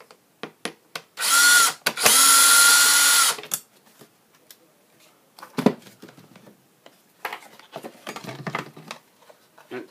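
A power screwdriver runs in one sustained whine for about two seconds while backing out screws holding a lamp shell together, followed by scattered clicks and handling noises of small parts.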